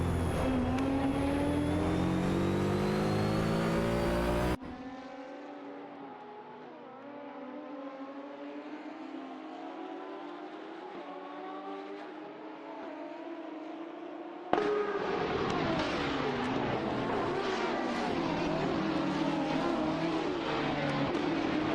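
Racing engines of a Ferrari 512S and a Porsche 917 in a racing video game roar loudly and climb through the revs, drop to a quieter distant whine mid-way, then surge back close and loud with no talking.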